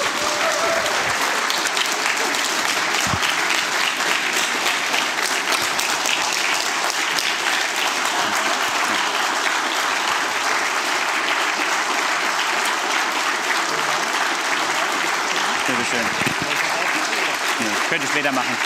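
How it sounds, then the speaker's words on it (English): A conference audience gives a standing ovation at a network operators' closing session, with dense, steady applause that stays loud and even for the whole stretch. "please give everybody like a standing applause for those 3 amazing guys"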